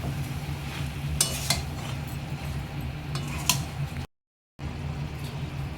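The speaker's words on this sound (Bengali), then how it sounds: "লঙ্কার গুঁড়ো সব কিছু দিয়ে আবার নাড়িয়ে চাড়িয়ে নিচ্ছি।" Chicken coated in chili and coriander powder is stirred in a pot, a spoon scraping and clinking against the metal over a constant sizzle, close and steady, with a brief cut to silence near the end.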